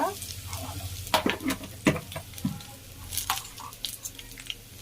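Dried red chillies frying in hot oil in a pan for pachi pulusu, a close, steady sizzle broken by sharp crackles and spoon stirring, with no voices.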